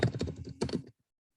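Keys clatter on a computer keyboard in two quick bursts of close, crisp typing, the second shorter, then silence.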